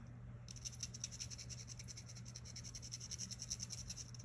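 Steady, quiet scratchy squeaking of a small Sharpie marker drawing across paper, a continuous run of short strokes after a brief pause.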